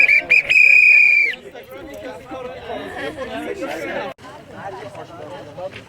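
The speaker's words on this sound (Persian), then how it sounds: "بهترین وسیلش سوته." A loud, sustained emergency whistle blast on a group hike in Tecolote Canyon, San Diego, sounding for about a second before giving way to steady chatter from hikers nearby.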